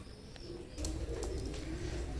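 Teddy pigeons coo softly and close by in a loft in Oman, a low rolling coo that repeats through the moment with no talk.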